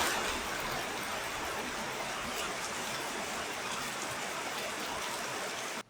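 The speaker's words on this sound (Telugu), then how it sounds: "చూడండి రెయిన్ ఎలా ఉందో, పడుతూ ఉంది" Continuous rain falling steadily on outdoor surfaces, an even, dense hiss of drops that stays at constant loudness nearby, with no voices, until it cuts off abruptly at the end.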